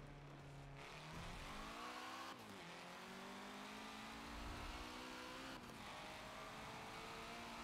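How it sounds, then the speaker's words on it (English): Engine of an F1 car in the Forza 7 racing game, a high whining note that climbs through gears with brief shift breaks, heard at a steady moderate level without talk. "There's a bloody F1 car in here."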